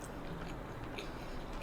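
Close-up chewing of sushi topped with crunchy fish roe, a continuous wet mastication with faint crisp bites, quiet and steady with no talking.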